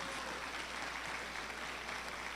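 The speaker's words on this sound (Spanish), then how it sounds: "Dele un fuerte aplauso al Señor," Steady applause from a church congregation fills the space for a couple of seconds, a dense, even wash of clapping with no voices rising above it.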